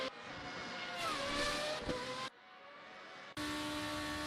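A 2017 F2 race car in the Assetto Corsa game, lapping the Baku city circuit, gives a high engine whine that rises through the gears, drops sharply for a moment, then cuts back in loud; no voices.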